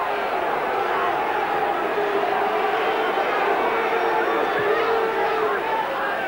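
Home football crowd at Kilmarnock jeering a throw-in given to Hibernian, a steady roar of massed voices and whistles in the stadium under a commentator's voice.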